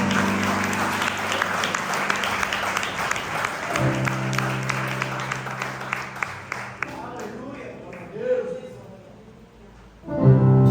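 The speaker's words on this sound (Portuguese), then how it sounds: "As palmas que louvam ao Senhor." A church congregation at an Assemblies of God service in Loulé claps in praise, rhythmic claps layered over sustained keyboard music and singing that swell and fade, with a loud burst near the end.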